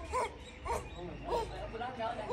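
Small dogs giving short, soft yipping barks in a few bursts, close by and moderately loud, with a person talking over them.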